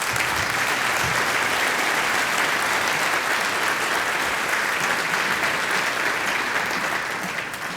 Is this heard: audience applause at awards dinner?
yes